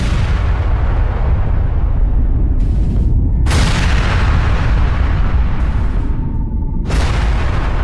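A nuclear bomb test explosion roars as a sustained, loud, dense rumble that fills the whole stretch, with sharper bright blasts breaking through at intervals.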